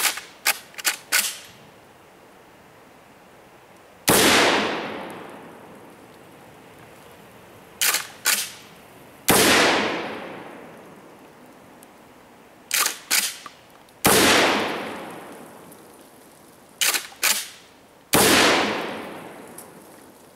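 Five loud, sharp blasts from a Kel-Tec KSG 12 gauge shotgun firing 00 buckshot ring out at intervals, each with a long decaying echo, separated by bursts of quick mechanical clicks from the pump action.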